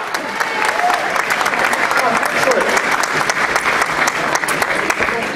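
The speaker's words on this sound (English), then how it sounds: "Give these two guys a nice big round of applause" An audience at a stage show gives a big round of applause for two volunteers coming up on stage, a loud, dense, continuous roar of clapping hands with faint voices mixed in.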